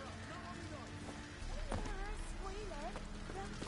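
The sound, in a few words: horse Roach hooves in video game The Witcher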